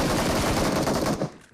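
Rapid automatic gunfire from a gun in the mobile battle royale game BGMI, a dense, loud burst of shots that cuts off and fades in the last moment, with no talking.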